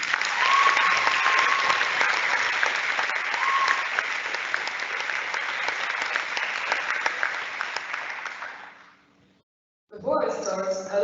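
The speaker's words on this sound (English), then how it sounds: "So please join me in applause for everyone present today." A graduation audience applauds, loud sustained clapping from a large crowd that carries on for about nine seconds, then fades out into a brief silence before a voice begins speaking.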